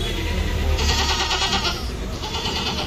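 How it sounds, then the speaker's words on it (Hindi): A goat bleats loudly at close range, two drawn-out quavering cries over a busy, noisy background. "ये है बकरा।"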